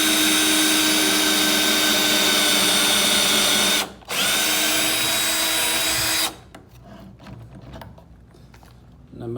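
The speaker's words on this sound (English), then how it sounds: "you just stick it in and start drilling" A power drill whines steadily at high speed while boring a pocket hole for a tiny camper build, pausing briefly and restarting, then stopping as clattering handling noises follow.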